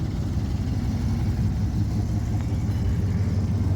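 A Chevrolet Silverado or Ram pickup fitted with a full Walkingshaw exhaust system idles up close with a steady, deep low rumble that holds even throughout.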